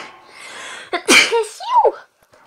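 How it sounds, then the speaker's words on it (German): A single human sneeze, close and loud, with a sharp explosive burst followed by a brief vocal tail, rising out of quiet room tone while a person plays The Legend of Zelda: Breath of the Wild. "Ich muss kurz niesen, Entschuldigung."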